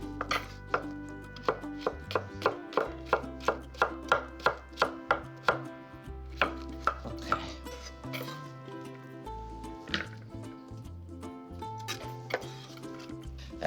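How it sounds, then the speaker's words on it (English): A knife chops through cucumber into half-moon slices on a board, a steady run of sharp, close taps in the first half, then looser, more scattered cuts, with music underneath. "cut it. I like it in half moon, like that."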